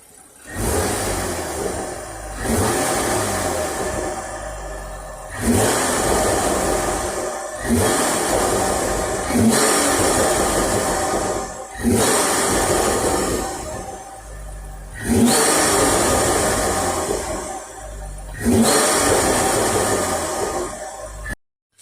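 A BMW F30 with the N55 engine and an Injen intake revs repeatedly, about eight loud throttle blips spaced roughly every two to three seconds, each swelling into a throaty roar with intake whoosh before dropping back to idle.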